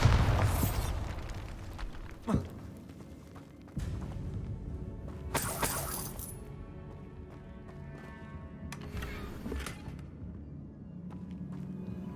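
Bombarda explosion spells cast in Hogwarts Legacy, with a sharp blast near the start and another burst around four seconds, followed by debris-like crackle and fading rumble over a low game ambience.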